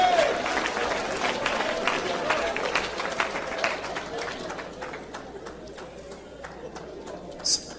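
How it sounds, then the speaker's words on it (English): A church congregation claps steadily through a sermon, the dense, rhythmic applause filling a large room and slowly thinning toward the end. "Somebody clap with me. Just clap."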